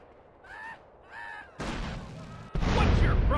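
Two heavy, close gunshot blasts from GTA San Andreas boom one after the other with a burst of crackling noise, preceded by a short in-game voice line.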